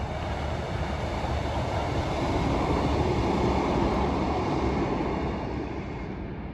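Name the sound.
Treherbert train passing through a station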